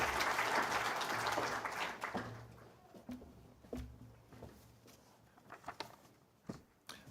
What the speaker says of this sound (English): A big round of applause for Rick, everyone